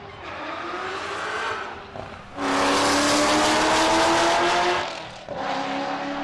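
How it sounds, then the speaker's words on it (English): A ZL1 Corvette race car screams down a drag strip, a loud, close engine roar that dips briefly between gear shifts and then surges again, with no talking. "the ZL1 Corvette"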